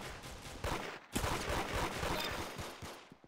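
Gunfire from a slow-firing weapon in a Roblox shooter, a series of spaced shots and impacts, fairly quiet and distant, with a brief pause before the bursts resume and trail off.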